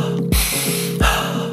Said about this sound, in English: alkaline breathing, which is an inhale through the nose and an exhale through the mouth